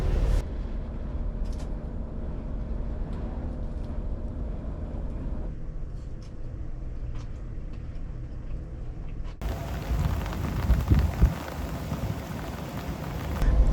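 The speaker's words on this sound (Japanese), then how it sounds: "外は雨がかなり降ってますが、中は快適です。" Heavy rain pours outside a turbo kei camper van during a severe storm with strong wind, a steady dense hiss heard from inside, growing louder and harsher in the final seconds.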